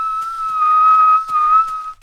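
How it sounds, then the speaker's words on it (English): A person whistles a steady, sustained tone while inhaling, the pitch holding level with slight shifts and faint breathy clicks, close and fairly loud, ending abruptly. "So whistle while you're inhaling."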